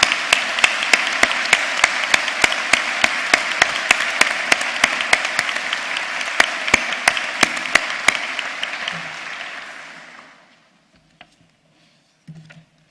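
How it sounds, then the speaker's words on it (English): Sustained applause from a graduation ceremony audience thanking the Bournemouth Symphony Orchestra, dense steady clapping with a few sharp louder claps, fading out after about ten seconds into near silence. "Let's give them a round of applause."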